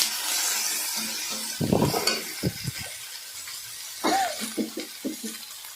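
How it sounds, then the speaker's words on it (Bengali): Ginger-garlic paste and tomato sautéing in a hot pan for an egg and soybean curry, a soft sizzle under bursts of spatula scraping and metallic clinks against the pan. "আদা রসুন আর টমেটো, টমেটো দিয়ে একটু কষিয়ে নিচ্ছি"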